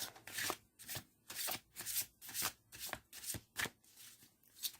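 A deck of cards being shuffled and cut in quick repeated riffles, about ten crisp papery bursts in five seconds, close and fairly quiet with no voices.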